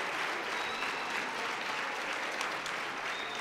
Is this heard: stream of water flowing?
no